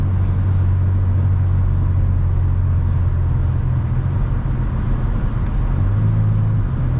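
A car with a big V6 engine drives on a road, heard as a steady, loud, low engine and road rumble from inside the vehicle, with no talking.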